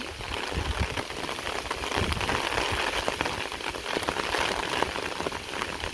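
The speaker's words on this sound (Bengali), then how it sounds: "কেমন বৃষ্টি নামছে" Rain pours down steadily on a rural home during the paddy harvest, a continuous, even hiss of drops on surfaces with no pauses.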